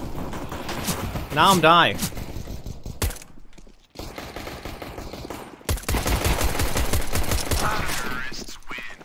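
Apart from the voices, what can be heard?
gunfire in Counter-Strike: Global Offensive video game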